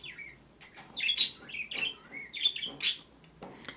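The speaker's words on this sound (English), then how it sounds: "The birds are chirping." Pet birds chirp and squawk indoors in a series of short, sharp bright calls, close and clear, with no talking.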